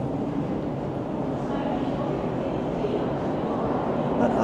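Low rumbling underground rail noise fills Coxwell subway station on Toronto's Line 2, a steady roar with faint echoes, and a voice speaks over it.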